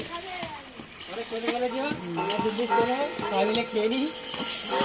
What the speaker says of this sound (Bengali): মাংসটা কষছি